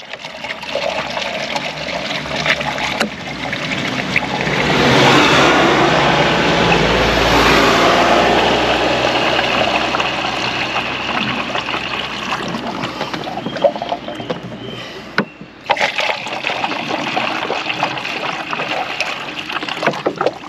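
Water runs and trickles from the coolant system of an overheated, broken-down car, a steady hissing flow that swells in the middle and then drops off briefly before resuming, with no talk over it.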